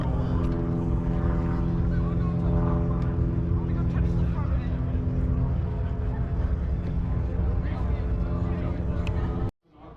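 A deuce-and-a-half army truck drives at an airshow with a loud, steady engine drone. Rich low harmonics carry over crowd babble, then the sound cuts off abruptly near the end.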